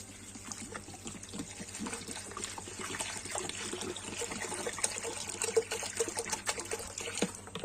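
Clean drinking water poured over soybeans in a bowl to soak them for homemade tempeh, a continuous close trickling and splashing that stays fairly quiet and even throughout.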